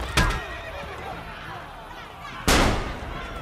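A horse in the video game Assassin's Creed Brotherhood, with two sharp loud bursts, one at the start and one near the end, over a continuous, rather faint background bed.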